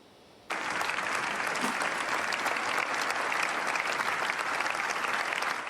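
Long, loud applause from a large crowd filling a packed cathedral at a funeral as a white coffin is carried in, starting abruptly and continuing steadily without a break.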